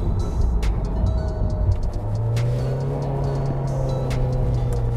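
Honda CR-Z with a swapped K20 engine driving, a loud close engine drone with rising pitch as it accelerates, road and cabin noise throughout, no talk.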